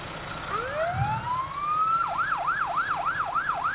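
An ambulance siren in a community fair parade wails up in two long rising sweeps, then switches to a fast, regular yelp, loud and close over steady outdoor crowd noise.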